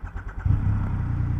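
A Triumph Rocket 3 motorcycle's huge engine cranks with a few quick starter pulses, then catches and settles into a deep, loud, close burbling idle.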